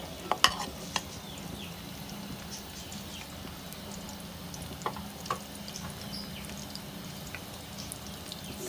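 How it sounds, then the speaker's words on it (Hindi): Onions frying in half a cup of hot oil in a pan, a soft continuous sizzle with occasional light taps and stirring clicks, close but fairly quiet, no talking. "अब थोड़ी सी प्याज हम इसमें से फ्राई करेंगे प्याज को"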